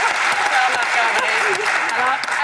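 Sustained applause from a French TV studio audience, a thick continuous patter of clapping that holds steady throughout, with a faint voice or two briefly surfacing beneath the crowd.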